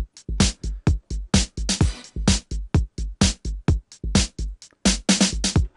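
An FL Studio music loop, dry and without parallel compression, plays punchy drum-like hits in a steady, tightly repeating rhythm, loud and close, with no voices.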